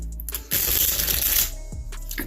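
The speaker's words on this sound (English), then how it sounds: "Do a good little shuffle." A deck of tarot cards is riffled and shuffled briskly for about a second, a dense papery flutter, followed by a few softer taps and card snaps nearby.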